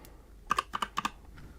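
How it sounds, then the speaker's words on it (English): Typing on a computer keyboard to search for a Windows program: six or so crisp, close keystroke clicks in quick pairs, followed by a couple of fainter taps, with no talking. "So we start typing it and it comes up straight away."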